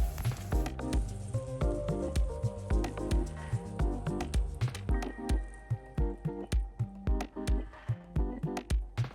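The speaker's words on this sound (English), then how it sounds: "And then I pour over 2 beaten eggs, enough to cover all of the bean sprouts and the onions." Beaten eggs are poured over bean sprouts and onions in a hot pan, giving a close, busy run of soft squishes, drips and light sizzling crackles with repeated pulsing bursts.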